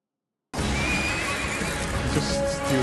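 A horse neighs in a scene from the Doctor Who episode "Deep Breath": after a brief silence, a loud, close, sustained whinny runs to the end with no talk over it.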